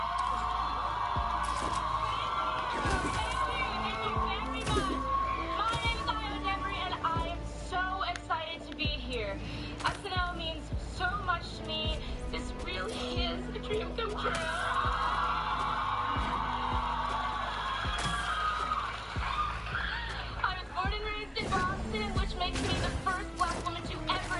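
An audience at a live talk event with Ayo Edebiri cheers and whoops, with scattered yells and crowd noise in irregular bursts. Talk and shouting voices mix throughout, and the level stays moderate and fairly steady.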